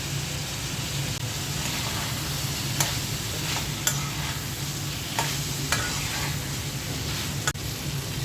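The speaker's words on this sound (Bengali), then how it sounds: "পুঁটি মাছের ভাজাটা দিয়ে দিচ্ছি।" Fried puti fish stirred into a sizzling pan with amra and vegetables, a steady close frying hiss broken by a few sharp scrapes and knocks of the spoon against the pan.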